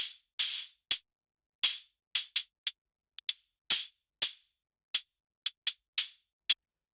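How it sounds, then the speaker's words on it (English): Synthesized hi-hat built from white noise in Ableton Operator, playing sparse, irregular bright noise ticks and short hissy bursts with quick decays, alone and close, in a glitchy IDM drum style. "But the next thing that I have here is this operator hi-hat,"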